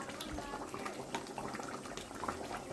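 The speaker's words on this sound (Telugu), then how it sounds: "హైలో వండుకుంటే కూర చాలా టేస్టీగా ఉంటుంది కాబట్టి ఇలా తుక్కుతుక్క ఉడకాలి" Andhra fish curry (chepala pulusu) boiling hard on high heat in a pot, a steady close bubbling and popping with no talk over it.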